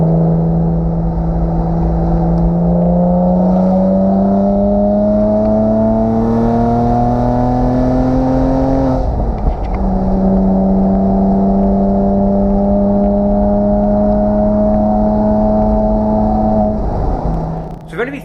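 An old Porsche Boxster with a straight-through exhaust drives and revs, its engine note climbing steadily through a long pull, dropping at a gear change and rising again, loud and close inside the car, with someone talking over it.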